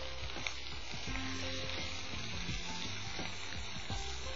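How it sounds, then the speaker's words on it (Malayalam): Onions sizzling and crackling in hot oil in a pan, with a steady bright frying hiss and soft scraping knocks of a spoon stirring them, quiet and close with no talking. "അത് ഒഴിവാക്കാൻ വേണ്ടിയാണ് ഞാനിങ്ങനെ ഒന്ന് ഇളക്കി കൊടുക്കുന്നത്."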